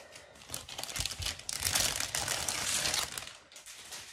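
Plastic packaging of a diamond painting kit being cut open with scissors, heard as close, continuous crinkling and crackling of film with small snips, fairly quiet and with no talking.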